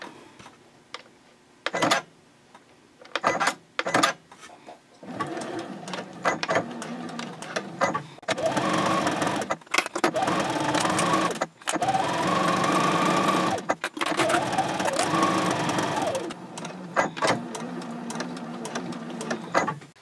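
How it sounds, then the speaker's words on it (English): A sewing machine runs a seam on a fabric basket in repeated bursts, with short starts early on and then longer steady stretches of close, rhythmic stitching, including reverse backstitches at the ends. "I can go ahead and sew the seam on the other side, and I'll backstitch at both ends."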